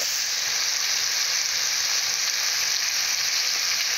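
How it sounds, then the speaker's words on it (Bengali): Fish and vegetables frying with salt in a pan for a mrigal fish curry with ridge gourd and potato: a dense, continuous, even hiss of sizzling oil, close and steady throughout with no voices. "লবণ দিয়ে কিছুক্ষণের জন্য আমি কষে নেব"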